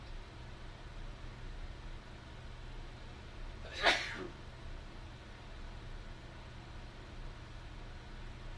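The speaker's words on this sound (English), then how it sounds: "No, that was a sneeze." A single short sneeze bursts out near the middle, close and fairly loud, against a quiet background of low steady hum.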